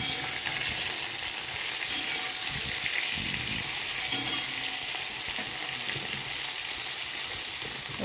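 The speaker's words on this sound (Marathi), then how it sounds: "त्याचं मी भेंडी फ्राय करते आहे. जिरं मोहरी टाकून तेल टाकलं" Okra frying in oil with cumin and mustard seeds, a continuous dense sizzle with faint occasional stirring scrapes, steady and close throughout, with no voices.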